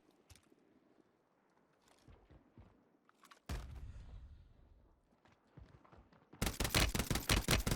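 SVA 545 assault rifle fire in Warzone: a rapid, loud burst of shots closes the stretch, preceded by quieter footsteps, movement and scattered distant noises.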